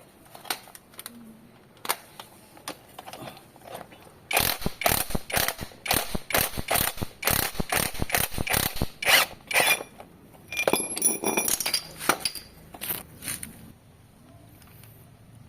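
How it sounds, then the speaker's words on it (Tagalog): Someone works a pulley off an engine shaft to reach a worn bearing, making rapid close ratcheting clicks and metallic scraping in bursts, with scattered clanks and pauses between. "Kailangan natin ibaba para mahugot natin tong pulley."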